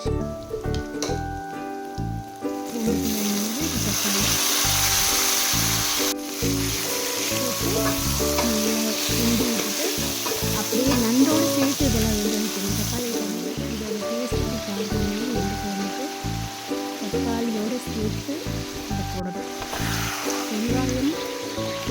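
Masala and tomato sauté in a pan for a crab curry, with a loud, continuous frying sizzle that holds steady throughout, close up and broken only by faint stirring.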